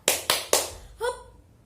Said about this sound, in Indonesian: Mari kita tepuk dulu. Tepuk ikan buntal.